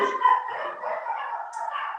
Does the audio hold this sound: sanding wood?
no